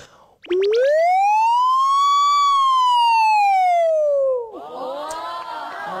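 A single human voice imitates a siren, gliding up into a long sustained wail and slowly falling back down, followed by brief murmuring.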